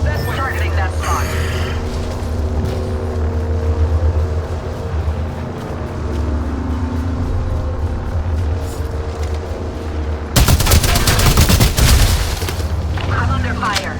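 Gunfire rattles through an Apex Legends match, with bursts of shots and booms over constant game ambience, then a sudden loud, dense volley near the end.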